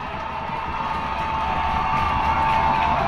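A varsity high school football crowd in overtime keeps up a steady, dense roar of cheering and shouting that holds and slightly swells, heard at a distance.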